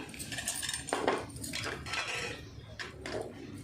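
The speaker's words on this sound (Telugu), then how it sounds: "చెవిటి కలుపుతా అయితే మంచిగా అంతా కలిసేటట్టు బాగా కలపాలి" Chicken dum biryani ingredients mixed in a large pot for a 40-plate hotel-style order produce scattered metallic scrapes and clanks of a utensil against the pot, irregular and fairly close, with no speech.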